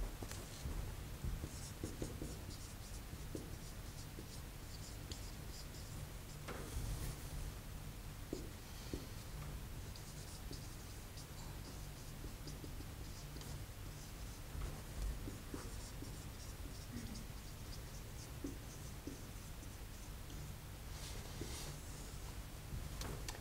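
Writing on a board during a mesoscopic solid-state materials lecture, with steady scratchy marker or chalk strokes running continuously at a moderate, even level.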